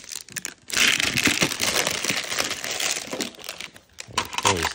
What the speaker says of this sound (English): Just rip it open.